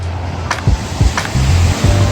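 Ocean surf at a West Sea coast beach near Seonnyeo Rock on Korea's west coast, waves washing in steadily with a few broader swells, close and fairly loud, with no talk over it.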